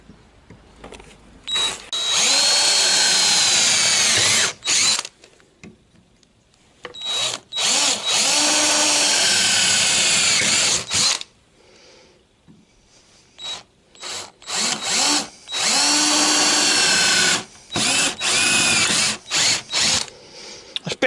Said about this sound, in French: Je perce d'abord avec un forêt de 5 hein, pour repérer à peu près où c'est.